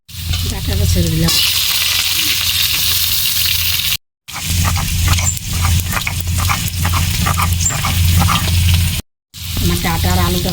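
Vegetable stems and potatoes frying in a hot pan with cumin seeds, a steady close sizzle broken by two brief silent gaps, with a voice talking over parts of it while cooking a fish-roe curry.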